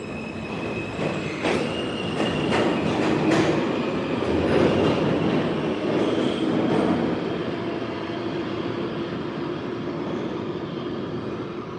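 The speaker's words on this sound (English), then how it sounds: "As we impatiently wait for the train." A New York subway N train on the Sea Beach line pulls into the station with a loud, steady rumble and metallic wheel squeals that fade as it slows. No one speaks.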